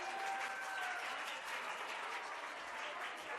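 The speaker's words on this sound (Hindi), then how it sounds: "आप सब बच्चे तालियां बजाएंगे।" Students clap at a high school and junior college annual prize distribution ceremony in Bhiwandi, a steady, dense crowd applause that holds evenly throughout at moderate distance.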